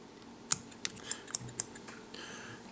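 Scissors trimming the foam posts on a Chernobyl foam ant fly, a few sharp separate snips spaced irregularly over about two seconds, close and crisp against a quiet background.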